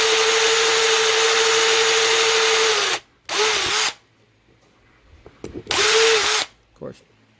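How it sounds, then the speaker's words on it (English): Power drill boring into a diecast car body casting, loud and close: a long steady whine of about three seconds, then two shorter bursts with a quiet gap between them and faint handling noises. "I think I've done about 115 castings and I've only drilled through twice."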